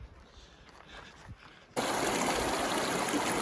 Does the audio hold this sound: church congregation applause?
no